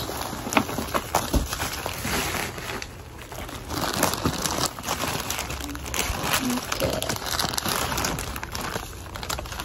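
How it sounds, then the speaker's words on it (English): Packaging of a studded pink limited-edition Starbucks tumbler box from Korea is opened by hand, with irregular crinkling and crumpling, rustles and small knocks close by, while a person talks at times. "I'm gonna open this one."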